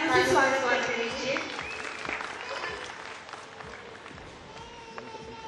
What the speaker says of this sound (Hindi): जी हाँ, तालियों से स्वागत कर लीजिए